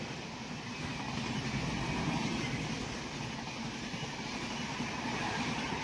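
An Amrit Bharat train locomotive passes with a steady, broad rumble and rushing roar that stays level throughout, heard at moderate distance with no voices.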